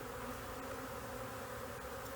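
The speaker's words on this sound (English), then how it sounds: "There's some bees here in the box, which I've got covered up." A honey bee swarm buzzes around a hive box, a dense, continuous hum from many bees, steady and fairly faint without pauses.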